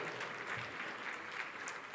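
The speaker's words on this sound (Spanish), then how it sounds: "Si quieren aplaudir, aplaudan" A church congregation gives faint, even applause that stays continuous and distant for two seconds without any clear voices.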